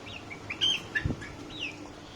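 Farm hens cluck and chirp close by in short, uneven bursts, with a brief rustle in the middle and no talking.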